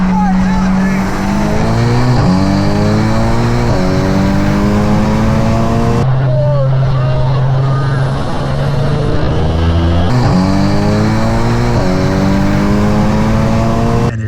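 Volkswagen MK8 fitted with a Vortex XL turbo upgrade accelerating hard, its loud engine note climbing through repeated rising sweeps with brief drops at each gear change, heard close and continuous.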